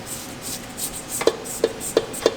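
A spatula scrapes around a mixing bowl in a few short, evenly spaced strokes, close and fairly quiet, with no voices.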